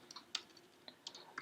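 Typing on a computer keyboard, a few sparse, quiet key clicks in an uneven rhythm, close and alone with no talk.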